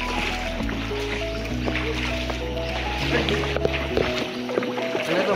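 A raft paddled along a river in Bandarban, water sloshing and lapping steadily with paddle splashes, under voices and a low engine-like hum.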